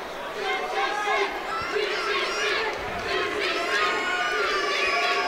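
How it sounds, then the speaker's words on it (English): Local crowd at a welterweight fight chanting UTC for Leon Edwards, a rhythmic mass chant rising and falling over arena chatter, with a commentator speaking over it. "Local crowd chanting UTC in support of Leon Edwards."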